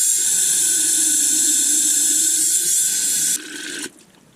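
Engine coolant and water poured together at a one-to-one ratio for a Honda MC22 CBR250RR motorcycle, a steady bright rush of liquid filling a container that tapers off in two steps and stops near the end; no talking.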